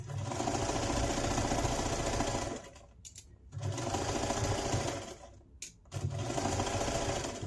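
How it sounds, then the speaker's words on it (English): A sewing machine stitches a fabric casserole-size hot pad forward and back along a quarter-inch seam, running loud and steady in three bursts separated by short pauses, with no talking. "So we're going to put it in our machine, making sure all this extra fabric's out of the way. And we're stitching forward and back"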